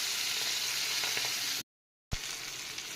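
Pomfret fish frying in a pan, a steady loud sizzle that cuts out abruptly for a moment and then resumes with a soft knock; no talking.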